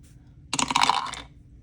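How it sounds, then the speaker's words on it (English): White and teal dice tumble and clatter across a surface in one short burst of rattling clicks that settles within under a second. "And so I roll white dice and my teal dice."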